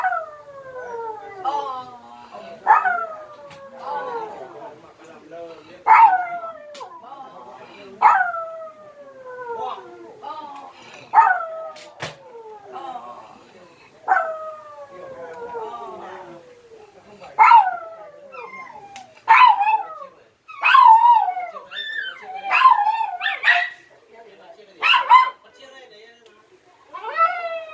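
A dog howls in long, sliding wails again and again, rising in pitch and breaking into yips toward the end, loud and close, with a person calling out between the howls.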